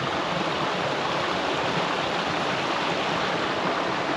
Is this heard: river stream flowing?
yes